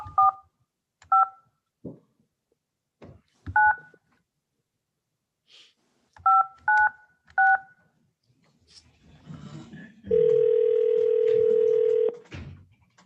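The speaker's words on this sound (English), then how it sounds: "I'll dial it now." Touch-tone telephone number dialed as several short bursts of DTMF beeps in clusters, ending with a steady two-second dial tone; a faint breath or shuffle sits between the beeps, with no talking.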